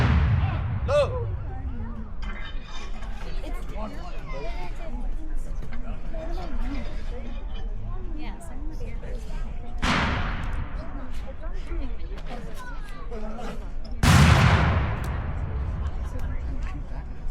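Cannon fire booms out at a Battle of Camden reenactment in South Carolina, with a few heavy blasts spaced several seconds apart over a steady background of crowd chatter and distant battlefield noise.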